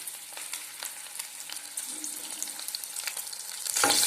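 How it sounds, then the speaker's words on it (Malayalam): Curry leaves added to sun-dried salted green chillies frying in oil, giving a continuous crackling sizzle with light stirring that flares into a louder hiss at the end. "അതിൻ്റെ കൂടെ കറിവേപ്പിലയും ഇടുകയാണ്"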